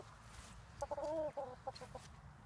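Two Jersey Giant roosters raised as meat birds cluck inside a small chicken house on a homestead, a short burst of several close, throaty clucks over a quiet background.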